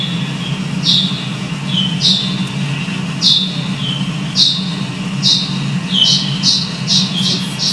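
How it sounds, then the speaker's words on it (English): Hoary bat echolocation calls, slowed down to audible pitch, sound as a regular series of short chirping sweeps that speed up toward the end, over a steady low hum. "This is a hoary bat, which is one of the most common here that we're finding in Montreal."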